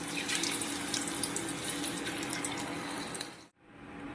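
Banana wafer slices fry in hot oil, giving a dense, steady crackling hiss with scattered pops that cuts out abruptly near the end before resuming briefly.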